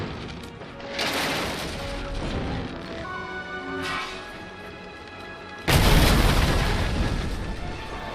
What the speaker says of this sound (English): fires lit and the catapults firing on the battlefield